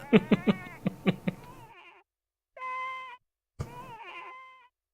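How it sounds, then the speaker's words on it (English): A quick run of bleating sheep cries from a PS1-era game trailer, with a wavering, nasal quality, followed by a few longer drawn-out bleats separated by silence. "No, the sheep noises."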